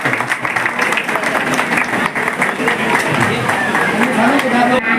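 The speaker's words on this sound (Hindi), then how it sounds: "जोरदार तालियां इस बच्चे के लिए," Steady crowd applause for a child at a Dhanka community event in Delhi, dense and continuous throughout with a voice speaking faintly underneath.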